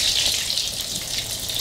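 Green corn fritters sizzle in hot oil, a steady bright crackling hiss with fine popping that runs throughout the short moment, close up and without speech.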